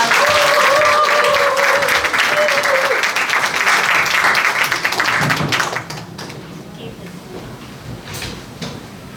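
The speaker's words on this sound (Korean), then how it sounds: "힘찬 박수로 맞이해 주시기 바랍니다" Loud, dense applause from a crowd at a book launch event fills the room for several seconds, then fades to scattered clapping and murmur.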